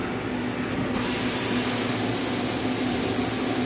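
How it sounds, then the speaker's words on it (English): A Nakamura CNC lathe runs a live tool in a machine shop, giving a steady, close mechanical whir and hiss with a constant low hum that grows brighter after a moment and holds evenly throughout. "Nakamura's running that live tool."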